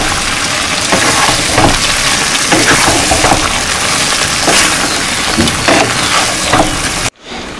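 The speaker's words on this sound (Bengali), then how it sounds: "সব কিছু আবার ভালো করে মিশিয়ে নিই" Vegetables and fried eggplant are stirred in a hot frying pan, making a loud, dense, close sizzle broken by repeated scraping strokes of a spatula. The sound cuts off abruptly just before the end.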